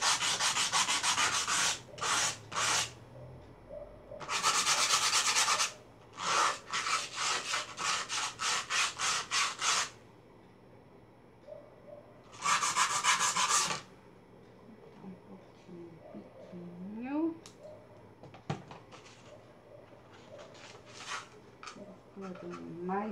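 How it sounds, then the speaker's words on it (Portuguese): Fine sandpaper rubbing by hand on a mosaic piece in a craft lesson, heard as repeated bursts of scratchy strokes, some long and some in quick rhythmic runs, with quieter pauses and faint handling sounds between them. "Peguei uma lixinha mais fina para não ficar difícil, tão difícil da gente lixar."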